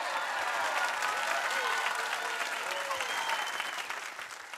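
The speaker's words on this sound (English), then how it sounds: "Let's give a big round of applause for the so-and-so show" A full round of applause for show players from an audience, dense steady clapping with some whoops, fairly loud and close, tapering off slightly at the end.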